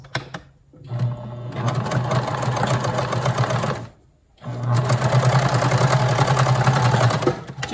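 Sewing machine back tacking on mask fabric, set to a regular straight stitch at about length 3: two steady runs of fast, loud close-up motor stitching, separated by a brief pause.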